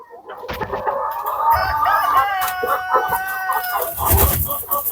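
Andijan black chickens cluck close by while a rooster lets out a long, loud crow that stretches across most of the moment, with more clucking and scratching around it.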